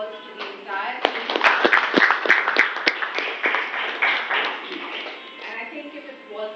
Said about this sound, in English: huge round of applause to the entire team